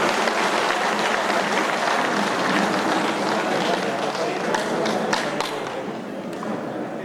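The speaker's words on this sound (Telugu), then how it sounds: "వారికి కూడా మనం ఒకసారి గట్టిగా చప్పట్లతో ధన్యవాదాలు తెలియపరుద్దాం." An audience at a Guru Purnima celebration at a pyramid hall in Armoor claps to thank a guest coming onstage, a long, loud, even round of applause that thins and tapers toward the end.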